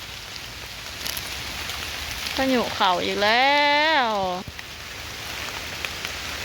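Steady rain patters down in a Lao forest during a wet-season mushroom hunt, a constant dense hiss throughout, with someone speaking briefly over it midway.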